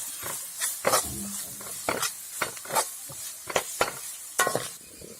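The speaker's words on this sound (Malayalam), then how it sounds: "ഗാർലിക് ജിഞ്ചർ പേസ്റ്റാണ് നമ്മൾ അതിലേക്ക് ആഡ് ചെയ്തു. നമ്മളൊന്ന് ഇളക്കി" A spoon stirs garlic ginger paste in a hot pan, giving repeated scraping strokes over a soft sizzle, close and moderately loud with no voices.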